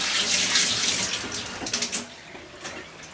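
Tap water runs steadily into a kitchen sink while squid is washed, a loud close splashing stream with a few sharper splashes near the end, no voices.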